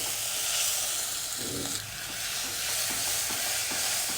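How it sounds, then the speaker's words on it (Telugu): Malabar spinach is stirred with ginger-garlic paste in hot ghee in a pan, giving a continuous soft sizzle and hiss broken by scraping stir strokes, with no speech. "అన్నీ బాగా కలుపుకొని స్పినాచ్ వేసుకోవాలి."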